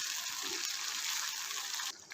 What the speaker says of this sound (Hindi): अब इसके अंदर यहाँ पे थोड़ा सा पानी शामिल कर देंगे। मैं यहाँ पे 1 कप पानी शामिल करूँगा।